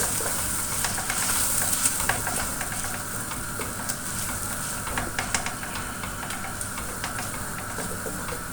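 Tomato paste fries in a pan for matar keema, a steady loud sizzle and hiss with scattered crackles and occasional stirring scrapes, and no voices.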